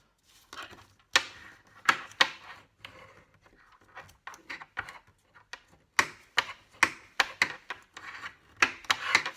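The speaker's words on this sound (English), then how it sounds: "And then we fold the bottom up." Crisp paper rustles and creases nearby in a series of short, irregular crinkles and swishes, with quiet pauses between the folds.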